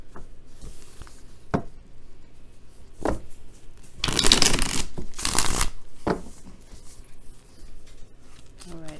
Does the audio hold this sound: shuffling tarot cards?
yes